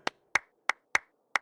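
Five crisp hand claps in Genshin Impact, evenly spaced and close, each a sharp isolated smack against silence.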